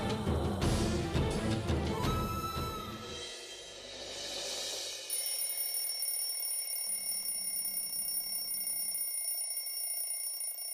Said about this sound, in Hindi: अलार्म बंद करो